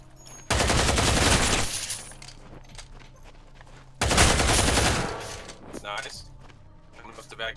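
Two long, loud bursts of automatic rifle fire in the tactical shooter Ground Branch, separated by a short gap and followed by quieter shuffling and clatter.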